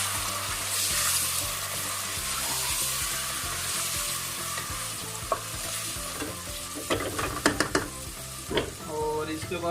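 Onions being mixed in a cooking pan, with a continuous loud sizzle and a run of clattering spoon scrapes and knocks toward the end.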